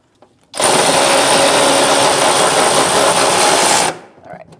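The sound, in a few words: ratchet with 15 mm socket tightening nut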